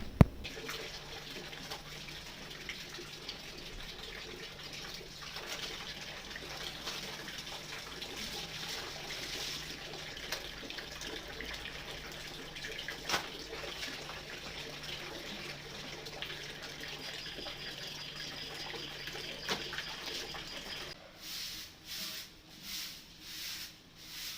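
Clothes being washed by hand at home under running water, a continuous close splashing and rubbing wash that fades into slower rhythmic swishes near the end, with no talk.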